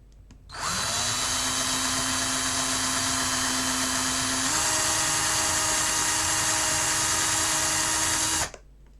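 A power drill bores into the plastic housing of a Nintendo 3DS during a charging port repair, running at low RPM with a steady high-pitched whine that holds for about eight seconds, rising slightly in pitch midway, then stops abruptly.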